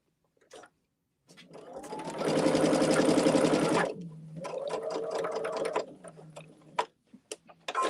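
A sewing machine stitches a quilt block seam in two bursts, a long loud rapid whir followed by a softer run, separated by mechanical clicks and ending in scattered taps.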